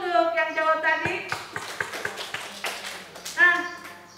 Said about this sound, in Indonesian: Tepuk tangan dulu untuk yang jawab tadi